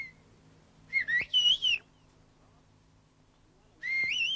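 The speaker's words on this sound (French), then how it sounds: "on va définir les caractéristiques physiques des sifflements émis pour essayer de comprendre leur relation avec la portée à grande distance de tels signaux" A whistled signal of the Pyrenean whistled language: short rising and falling whistle phrases heard clearly and alone, in two separate bursts with a quiet gap between them.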